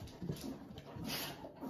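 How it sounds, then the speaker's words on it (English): Puppies whimpering and whining softly nearby, a few faint high yelps and small fidgety sounds in a quiet room. "Anyways, there's dogs right here."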